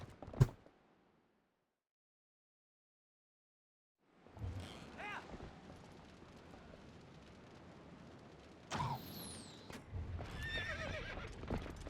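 A horse whinnies and its hooves clip-clop in the video game Twilight Princess, a sharp burst at the start, then silence, then a steady stretch of trotting with louder whinnies near the end.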